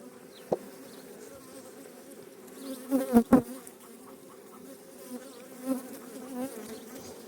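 Honeybees drone in a steady, close buzz around an opened hive during an inspection, with a few soft knocks and taps partway through.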